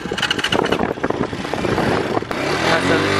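A motorcycle engine runs close and loud during a riding lesson in the desert, revving unevenly as it is shifted toward second gear, with voices talking over it.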